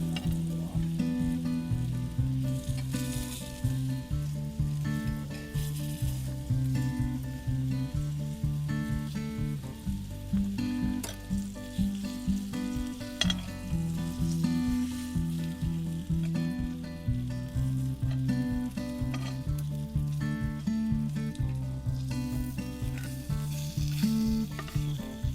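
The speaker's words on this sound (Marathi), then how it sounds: "मस्त गरम तेलामध्ये टाकू। पापलेट दोन्ही बाजूनी मंद आचेवर व्यवस्थित फ्राय करून घेऊ।" Pomfret fish shallow-frying in hot oil over low heat, a dense continuous crackling sizzle throughout, close and steady, with a low hum beneath and no talking.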